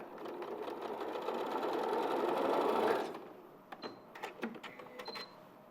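Sewing machine running steadily for about three seconds while basting stitches through stuffed fabric pieces, then stopping, followed by scattered small clicks and handling noises close by.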